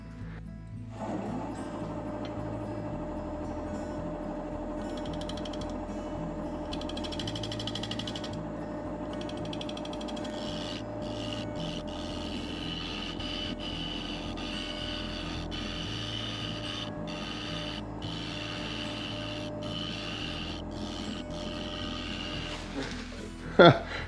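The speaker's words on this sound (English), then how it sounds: "I'm going to see if I can make this negative rake scraper go in here." A wood lathe spins a maple burl while a negative rake scraper cuts at it, a continuous mechanical hum with intermittent scraping and ticking contact sounds over about twenty seconds, ending with a sharp knock.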